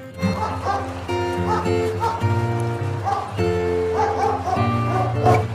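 A dog gives a series of bow-wow barks and yips, fairly loud and close, layered over the steady melodic backing of a children's phonics song.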